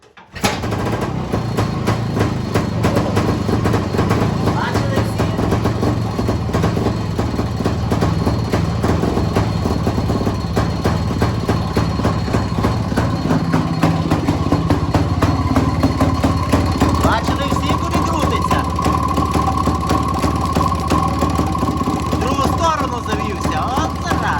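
An engine is switched on and keeps running during a CDI ignition spark test, giving a loud, close, continuous drone with a steady low idling rumble from start to finish.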